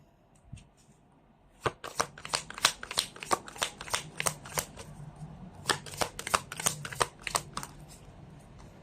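Tarot cards shuffled by hand in two long runs of rapid, crisp clicking and riffling, close and clear, with a short pause between bursts and no talking.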